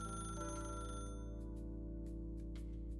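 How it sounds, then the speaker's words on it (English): A phone ringing in the Arknights video game, a steady electronic ringtone with sustained tones, fairly quiet and alone, with no one talking. "the phone rings"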